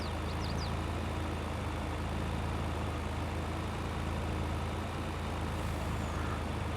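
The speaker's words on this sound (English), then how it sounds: "I know the truck sounds probably just as loud" Steady, loud engine drone of a truck in the farming video game Farming Simulator on an Iowa map, a continuous low rumble running without pause and no talking.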